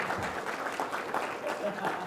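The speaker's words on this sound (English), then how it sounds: "Please clap for Lori Blandino" At a Louisiana library network conference, an audience applauds as a speaker is introduced. The clapping is brief, faint and distant, a soft patter of many hands.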